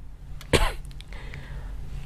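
A single sharp cough bursts out near the mic from an adult speaker with a rainy-season flu during an online technical meeting, followed by quiet room noise.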